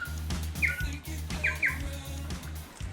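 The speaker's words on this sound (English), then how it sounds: "the birds are everywhere" Forest birds, including robins, chirp and call over a low, throbbing mechanical hum in Fiordland, with a few bright, short tweets rising above the drone.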